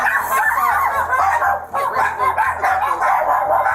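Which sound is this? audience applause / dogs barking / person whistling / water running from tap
dogs barking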